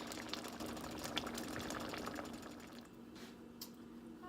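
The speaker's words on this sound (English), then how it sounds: "I'm just gonna let that simmer" Black-eyed peas simmering in a pot on the stove, a steady faint bubbling hiss that continues throughout and softens slightly toward the end, no talking.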